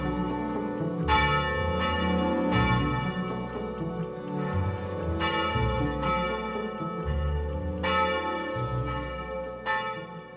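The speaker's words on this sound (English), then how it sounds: "If I pull full circle the tenor bell over 1600 weight of bronze" Bronze church bells, including a tenor of over 1600 weight, peal from a 13th-century tower, several overlapping strikes ringing out loudly in a continuous, resonant wash with no voices.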